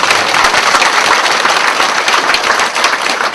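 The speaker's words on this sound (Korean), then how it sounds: "이왕에 치는 박수 한번 더 뜨거운 박수로 하나님께" Loud, fervent clapping fills a church service hall as the congregation renews its applause, a thick continuous roar of many hands close and unbroken for the whole stretch.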